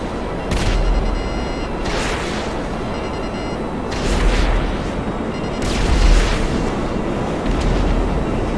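Fighter jet gunfire and explosions at Fort Zancudo in GTA Online roar through a loud, continuous jet wash, with several heavy booms spaced a couple of seconds apart rising above the steady engine rush.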